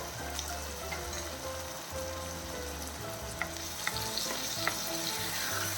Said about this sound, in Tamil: மீடியம் ஃப்ளேமில் வச்சுக்கோங்க ஒரு பத்து நிமிஷம் கூட ஆகாது இது வந்து ரெடி ஆகிறதுக்கு இடையில வந்து கிளறி விட்டுப்போம்